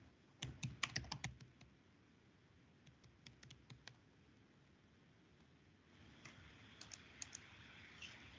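A username and password typed on a computer keyboard to log in to an app, close quiet key clicks in a quick burst, then a few scattered taps and another short cluster, with no talk over them.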